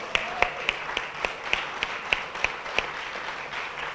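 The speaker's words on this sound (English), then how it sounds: "let's give these guys a round of applause" Sparse, faint applause follows a panel discussion, with a few evenly spaced hand claps at a steady rhythm of about three per second, heard from some distance in a quiet room.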